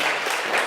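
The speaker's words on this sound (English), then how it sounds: "so let's give our guests a round of applause." Audience applause for guests at a live debate panel, a brief burst of dense clapping without any voices.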